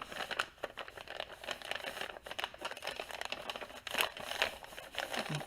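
A large paper bag being folded gives close, crisp crinkling and crackling in uneven bursts, with sharper creases and snaps around the middle, and no voices.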